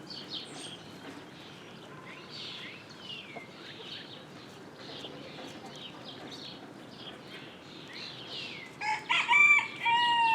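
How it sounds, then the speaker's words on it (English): A neighbor's small rooster crows and clucks at a distance, with fainter bird calls through a quiet outdoor backyard ambience, then a louder nearby burst of crowing near the end; no speech. "That's the neighbor's little rooster."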